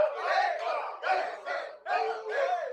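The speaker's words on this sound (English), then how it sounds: "it's a crowd sound that goes like this" A crowd shouting in rhythmic unison within a K-pop R&B song, three loud bursts of massed voices in a row, up close and filling the sound.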